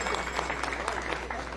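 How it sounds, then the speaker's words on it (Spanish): A crowd at a road paving inauguration in the village of Patzala applauds for José Chajón Morales, a steady dense clapping heard at moderate distance with voices mixed in. "un fuerte aplauso a don José Chajón Morales"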